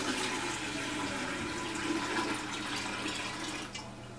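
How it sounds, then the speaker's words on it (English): Water pours steadily into the top section of a Doulton stainless steel gravity filter, a continuous rushing fill that stays even and then eases slightly at the end, with no talking. "Removing the lid, fill the filter top section with water."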